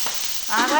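Oil poured into a hot pan starts to sizzle halfway through, a brief rising hiss and crackle that comes in after a quieter moment, close and fairly loud.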